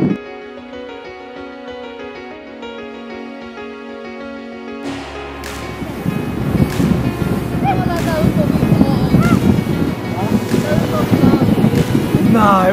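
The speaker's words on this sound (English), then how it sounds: "we're going on a little boat ride" A small tour boat heads out on the sea off Cala Gonone, Sardinia, toward the Orosei beaches, its engine and rushing water and wind building from a quiet start into a steady loud roar, with no talk over it.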